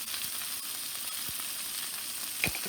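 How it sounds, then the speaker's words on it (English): Garlic sizzles in a hot skillet while pork tenderloin cooks, a steady close fizzing crackle with a couple of faint clicks, no talk. "I'm going to add my garlic back in the pan"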